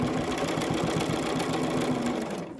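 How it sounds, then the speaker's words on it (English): A sewing machine stitching forward and reverse over a previous line while attaching bias tape, a fast continuous mechanical whir with rapid rhythmic needle beats, close and steady throughout. "starting just above the mask, forward and reverse, stitching right over the previous line"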